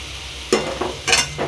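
Pumpkin and Malabar spinach curry sizzles in a pan, and a few quick, close scraping strokes of a spatula stir it over the frying hiss.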